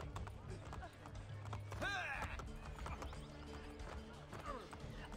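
In the game Assassin's Creed Brotherhood, a horse's hooves clop steadily through a city street at moderate volume, with a brief neigh midway and someone talking over the ambient town noise.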